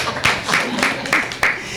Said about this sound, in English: So give yourselves a round of applause on a rainy day.